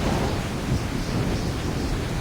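A loud thunderstorm in Assassin's Creed III, with a constant heavy roar of rain and wind and deep rumbling that fills the whole stretch, with no voices.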